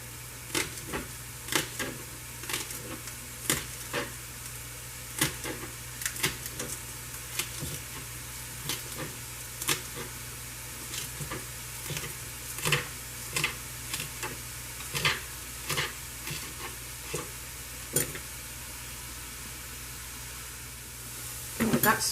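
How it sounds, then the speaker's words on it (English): Knife chopping garden green onion on a cutting board, a steady run of sharp, close taps with brief pauses and a few louder strokes near the end, over a faint low hum. "I'm just chopping up some green onion from the garden"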